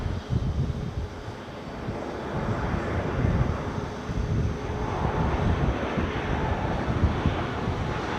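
An airplane arriving from Shannon at Edinburgh airport, heard outdoors as a broad, moderate engine roar that swells slightly mid-way, mixed with gusty wind buffeting the microphone.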